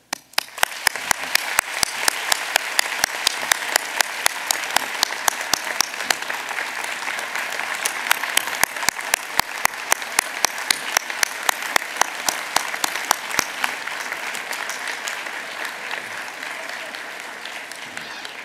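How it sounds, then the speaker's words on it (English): A large audience at a medical college commencement ceremony applauds steadily and warmly, with dense clapping filling the hall throughout and a few sharper individual claps standing out. "Let's give us a fine round of applause and appreciation to the parents, other family members, friends, and loved ones who supported you during this journey."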